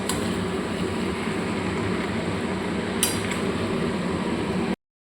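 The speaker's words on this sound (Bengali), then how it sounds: "এবার ভালো করে এটাকে গ্যাস কমিয়ে কষবো।" Spiced mutton is stirred in a pot over a low gas flame: a steady, close hiss and simmer with soft scraping and one brief metallic clink midway.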